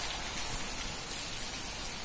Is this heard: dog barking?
no